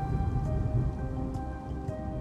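Steady rain patters on hard surfaces in a city, a soft, even wash of drops with no voices and no clear thunder.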